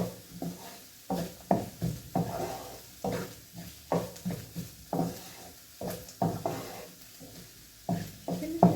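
Onions sizzling and frying in a pan while being stirred, with repeated scraping strokes of a spoon in an irregular rhythm over a steady soft sizzle, close and moderately loud, no talking.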